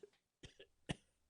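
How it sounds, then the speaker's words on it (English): A few short, dry coughs in quick succession, close and quiet, with brief pauses between them. "and he began to cough"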